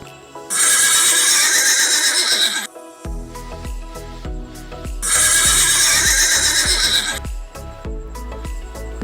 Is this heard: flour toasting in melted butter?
no